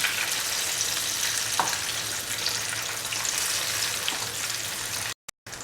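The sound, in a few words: mango fritters frying in a pan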